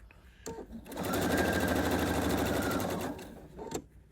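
Sewing machine running a continuous quarter-inch seam on a quilt block, a close, steady mechanical whir lasting about two seconds, preceded and followed by brief clicks as the fabric is handled.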